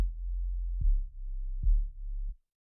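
Sub bass and an 808 layered together in FL Studio for a track, three deep, booming low notes played in sequence with soft punchy attacks, alone and then cutting to silence.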